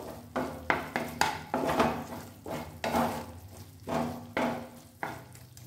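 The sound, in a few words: stirring paneer pasanda gravy in a pan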